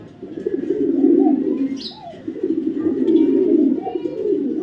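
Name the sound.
racing pigeons cooing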